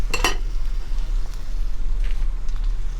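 Oxtail sears in a hot pan, giving a steady close sizzle over a low constant hum, with a brief sharp clatter near the start.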